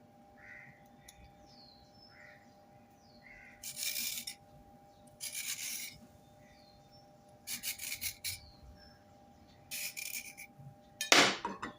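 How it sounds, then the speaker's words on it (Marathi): Radishes being peeled with a peeler in a kitchen, heard as several short bursts of close, crisp scraping strokes separated by quiet pauses, with faint bird chirps in the background. "वरचा भाग कट करून सोलून घेऊया"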